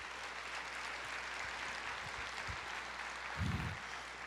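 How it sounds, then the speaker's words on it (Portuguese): A church congregation applauds during a Portuguese-language worship service, a faint, steady wash of clapping from many hands that swells slightly near the end. "você pode aplaudir o Senhor?"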